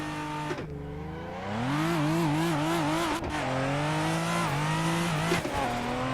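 A race car in the video game Assetto Corsa launches with a clutch dump from 6,000 rpm, the loud engine note dropping sharply, then climbing and wavering as revs catch and build, close and sustained without talk.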